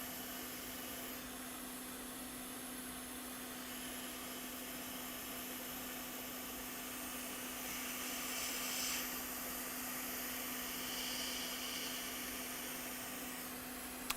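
A hot air rework station blows steadily on a MacBook logic board from a distance to dry it, giving a continuous, fairly even airy hiss with a steady hum running underneath throughout.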